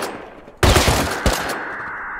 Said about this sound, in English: I was getting shot